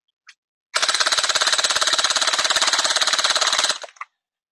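Uzi gel ball blaster on an upgraded 11.1 volt battery fires a long, fast, steady burst of rapid mechanical shots for about three seconds, loud and close, with a brief click before and a trailing snap after.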